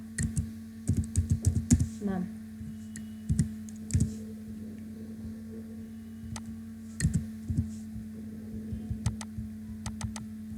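Computer keyboard typing into a spreadsheet, with quick clusters of close, crisp key clicks separated by pauses over a steady low hum.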